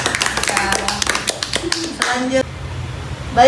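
A small student group in a group counseling practice session claps briefly, a short patter of hands over a couple of seconds, with voices talking over it before it fades.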